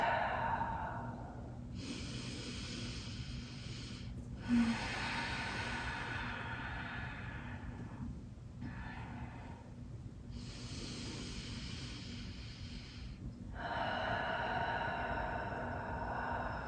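Slow, deep breaths during a calming yoga practice for anxiety come in long, soft whooshing inhales and exhales that rise and fall in a steady rhythm over quiet room tone.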